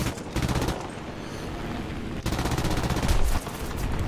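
Rapid machine gun bursts from a Soviet tank's MG in a combat video game, loud continuous rattling across the whole span with a brief break midway.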